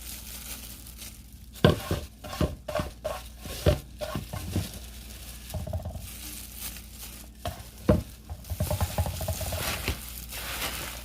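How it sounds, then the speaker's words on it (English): Crumbled saltfish being stirred and mixed in a pan, with irregular scraping, crinkly rustles and knocks of a utensil over a faint sizzle, close and uneven in loudness, with no speech. "We're going to mix it all up together."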